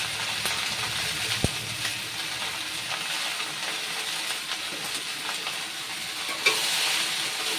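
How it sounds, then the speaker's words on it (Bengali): Fish roe with onion, salt and turmeric is stirred in a hot pan, with a steady sizzling hiss broken by a few sharp spoon clicks and scrapes, close up and without speech. "লবণ হলুদ দিয়ে আরো একবার মিশিয়ে দেব।"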